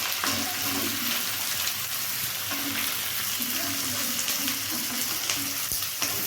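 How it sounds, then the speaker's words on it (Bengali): Onion frying in oil for a chilli chicken gives a steady, fairly close sizzle and hiss throughout, with occasional light knocks of a utensil. "ভালো করে একটু ভাজা হয়ে গেলে ভালো করে এবার তাতে পেঁয়াজ দিতে হচ্ছে"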